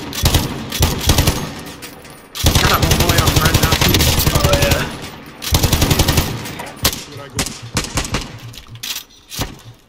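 Bursts of rapid automatic gunfire in Call of Duty Warzone, loud and close, with several sustained volleys broken by short gaps and scattered single shots, while players talk underneath.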